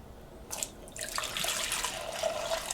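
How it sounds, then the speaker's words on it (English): Fuel draining out of a Sunbeam S8 motorcycle, a steady splashing trickle of liquid that starts after a brief pause and continues close by without talk. "I decided first thing I would do is drain the fuel out"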